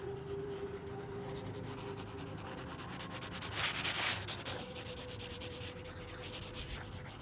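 Steady scrubbing of a board being erased to clear written work, a continuous close rubbing with rhythmic strokes and a louder, harsher swipe midway, no voices.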